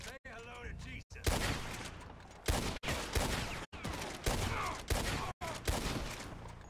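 Sustained volleys of video-game gunfire from an enemy shooter, loud and close, arriving in several dense bursts separated by short silent gaps, with a voice speaking over parts of it.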